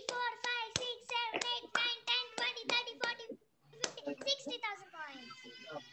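Children clap in rhythmic bursts during an online children's club session, a run of sharp claps followed by a short pause and then more clapping mixed with young voices.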